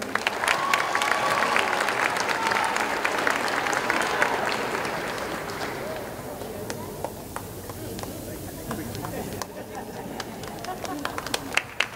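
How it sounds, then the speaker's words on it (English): Crowd applause for students at a 6th grade promotion ceremony at an elementary school, loud sustained clapping that gradually fades, with voices and chatter mixed in. "Let's give these students a round of applause."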